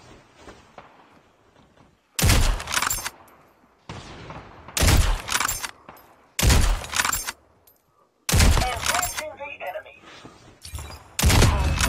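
Repeated loud bursts of video game sniper fire crack in clusters with quiet gaps between them during an intense scrim match, while players talk over the shooting.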